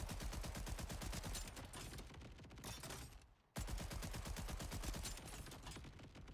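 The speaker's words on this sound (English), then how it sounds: "When I shoot, you should hear the game more than the music." Rapid automatic gunfire from a video game rattles in steady bursts, loud and dense, with one short pause midway before the shooting resumes.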